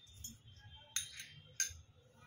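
Spoon mixing coloured raw papaya pieces for tutti frutti in a bowl: two sharp, faint metallic clinks against a quiet low rumble, no voices.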